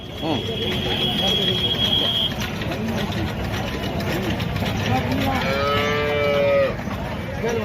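Cattle at a busy Salem livestock market moo loudly and repeatedly, with a long low call early on and rising, wavering bellows near the end, over crowd talk and clanking mechanical noise.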